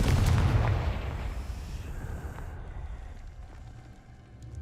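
Confringo fire spell going off in the video game Hogwarts Legacy, a single heavy booming blast at the start that rumbles and fades over several seconds, with no talk.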